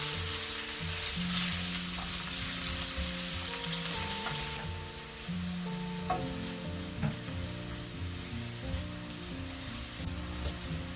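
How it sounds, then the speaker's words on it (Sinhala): Leeks tempering in a hot pan until golden, frying with a steady loud sizzle and occasional stirring scrapes, no voices over it. "ඒක ඉස්සෙල්ලාම දාලා මම මේක හොඳට කලවම් කර මේ හොඳ රන්වන් පාට වෙනකන් ටෙම්පරාදු කරගන්නවා"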